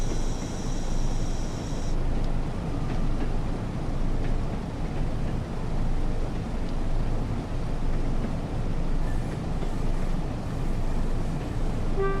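A simulated train in Train Sim World runs on the Shap route in a steady, loud low rumble, with rolling wheel noise and a faint horn-like tone early on.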